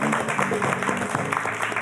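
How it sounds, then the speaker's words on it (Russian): Applause from an audience at a design-day evening event in Gomel, a brief burst of steady clapping throughout. "Аплодисменты, друзья."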